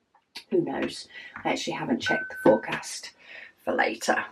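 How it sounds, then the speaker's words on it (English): A home doorbell gives one brief, steady chime partway through, faint and partly buried under someone talking continuously. "that was my doorbell going."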